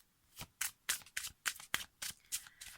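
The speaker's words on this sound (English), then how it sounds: "Focus on your question, please, as I'm shuffling the cards" A deck of cards is shuffled by hand in a quiet room for a tarot-style reading, giving about ten quick crisp riffling bursts in an even rhythm, close and alone with no talk.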